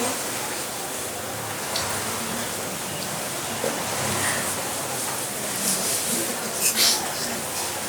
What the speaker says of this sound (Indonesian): Wah ini hujan-hujan